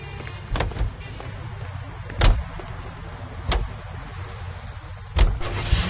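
Car in the video game L.A. Noire, its engine running and driving with a low steady rumble, punctuated by a few sharp clicks and thumps, close by without talk.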